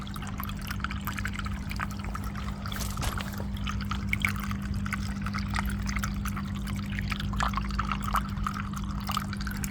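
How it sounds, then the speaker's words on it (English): Small garden water features in a summer garden trickle and pour steadily, a continuous close splashing wash of running water with no talk over it. "So these are our little water features."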